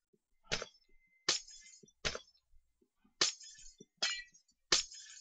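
Glass blocks broken in a frozen-world Minecraft-style survival game with a silk touch tool: six sharp, bright breaking clinks spaced about a second apart, each short and crisp against near silence.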